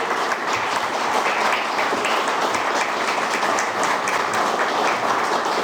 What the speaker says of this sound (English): how about one more round of applause for all of our new sworn-in officials